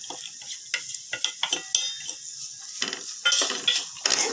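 Chopped carrots and beans being stirred in a pan while frying for veg potato cutlets, a series of close clicking spatula scrapes and taps over a light sizzle, no voices.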